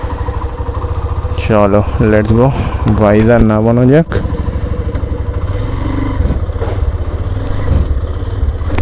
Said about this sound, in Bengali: চলো বাইক স্টার্ট দেওয়া যাক।